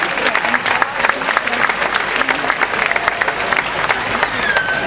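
An audience at a festive evening event applauds sponsors with loud, sustained clapping from a large crowd, close and dense, with some voices mixed into the noise.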